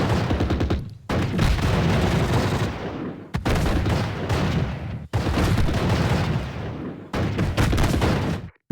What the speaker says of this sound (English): German grenadiers are firing at us